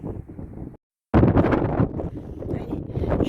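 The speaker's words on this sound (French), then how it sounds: "toujours avec beaucoup de vent" Strong wind gusts buffet the microphone on the coast at Gruissan, a loud, broadband rumble that cuts out briefly near the start and then returns even harder, roaring steadily to the end.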